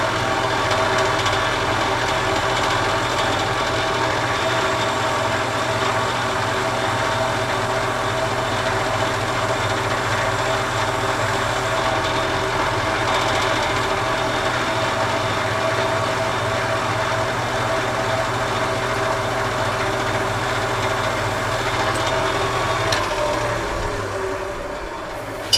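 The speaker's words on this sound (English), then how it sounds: "First I'm going to turn the lathe speed up because I had turned it down for sanding." A wood lathe runs at around 2300 rpm while a lighthouse Christmas tree ornament is turned, giving a steady, continuous motor hum with a few tonal lines that hold even for the whole stretch before tapering slightly at the end.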